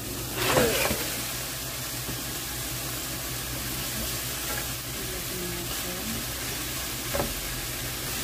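Chicken feet sizzle in a hot pan of oil for Filipino-style cooking, a steady loud hiss with occasional stirring scrapes and spatters throughout.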